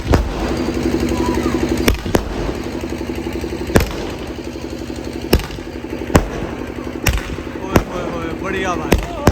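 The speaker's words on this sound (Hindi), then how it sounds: "आग भाई स्काई शॉट है।" Sky shot fireworks burst outdoors in a string of sharp bangs at irregular intervals, each crack loud and close over a constant background rumble, with people chattering between the blasts.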